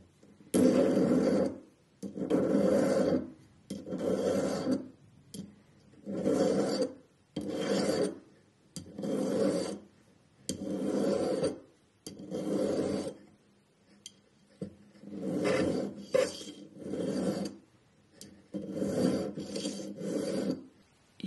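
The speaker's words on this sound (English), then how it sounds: "I'm going to take my file, which I forgot to mention in my introduction, and I'm going to take off a bit here" A hand file rasps across a metal piece in metalsmithing work, roughly a dozen even back-and-forth strokes with brief pauses between them, close and loud with no talk.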